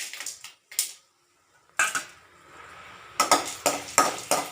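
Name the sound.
urad dal and chana dal being dry-roasted in a pan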